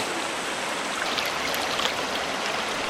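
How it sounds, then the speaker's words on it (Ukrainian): A river on Borneo island in Malaysia flows in a steady broadband rush of water, close and continuous, with no voices. "завершилася наша подорож водою. Такою чудовою малазійською річкою на острові Борнео"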